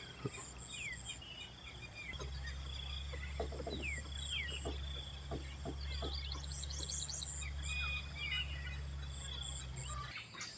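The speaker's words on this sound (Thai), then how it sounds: "ได้ยินเสียงนกเสียง ธรรมชาติไกลๆ" Distant birds chirp and call intermittently over a steady low hum and insect buzz on a calm morning at a rural temple in Lampang, Thailand, with no talk.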